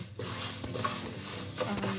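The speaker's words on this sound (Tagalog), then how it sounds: "Ayan, halu-haluin lang natin hanggang maging brown." A cup of mung beans toasts dry in a heated pan for ginataang munggo, with a soft sizzle under repeated close scraping strokes of a stirring utensil against the pan.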